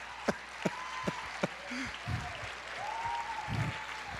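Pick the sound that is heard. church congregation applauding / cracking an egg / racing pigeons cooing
church congregation applauding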